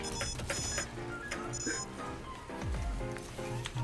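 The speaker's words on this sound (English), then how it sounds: "I need to get somewhere so I can turn off the alarm." An in-game alarm in Space Marine 2 rings as a repeating electronic tone over battle noise and effects, while a player talks over it throughout.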